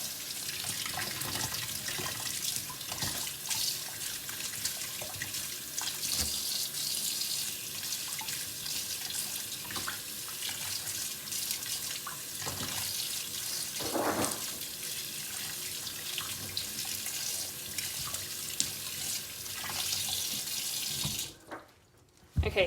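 A sink tap runs steadily while whole dandelions with roots are rinsed and rubbed under the stream. Water splashes close by for a long stretch, then the flow stops near the end.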